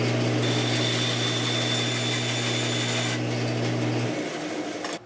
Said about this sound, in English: I do have my bandsaw on an air-driven foot switch as well, so we'll make that first cut